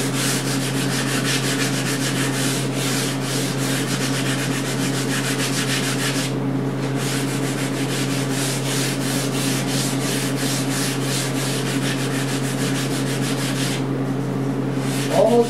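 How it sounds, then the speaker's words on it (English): Sandpaper rubs back and forth over the fretboard of a Martin D-28 acoustic guitar during a neck reset and refret repair, a steady, close, loud rasping stroke rhythm with one short pause partway through. "I want to sand over the entire fretboard"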